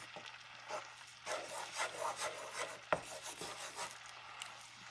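A spoon scrapes and stirs chili hotdog filling with tomato sauce in a pan, a soft, close, irregular rubbing and grating with one sharper knock partway through. Fairly quiet, and no one speaks.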